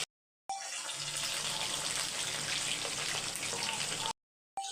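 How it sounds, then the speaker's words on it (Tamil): Quarter glass of rinse water poured into a clay pot while cooking a goat intestine curry, a steady splashing pour lasting several seconds, close and fairly loud, with brief silence before and after. "இதில் ஒரே ஒரு 1/4 கிளாஸ் தண்ணி அலம்பி ஊற்றிக்கோங்க."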